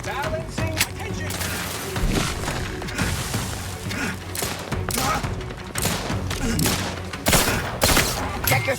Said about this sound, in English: Lay down fire.